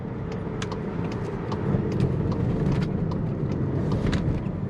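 A Volkswagen Tiguan SEL R-Line's turbocharged engine pulls out of a corner, heard from inside as a steady low drone that swells slightly as it accelerates, with road noise and faint clicks over it.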